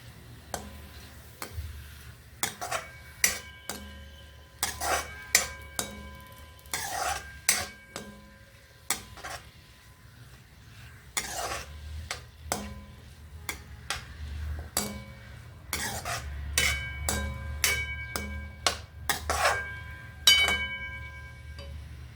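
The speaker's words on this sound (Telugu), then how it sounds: "చూడండి మగ్గుతున్నాయండి ఉల్లిపాయలు" Onions and garlic softening in a pan for a tomato curry seasoned with vamitala karam spice powder, stirred with a utensil that clinks and taps against the pan in repeated bursts over a low, steady cooking hiss.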